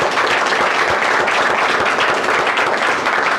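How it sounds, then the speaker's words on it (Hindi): An audience claps for a man, a steady, dense burst of applause that stays full and even throughout. "एक बार सर के लिए ताली बजा दीजिए"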